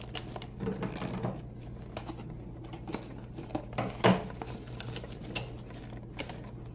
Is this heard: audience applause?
no